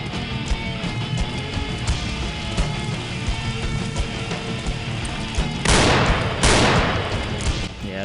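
Gunfire in the zombie video game Dead Epidemic: loud, dense game-audio clatter with two heavy, sharp bursts near the end standing out above a constant mechanical din.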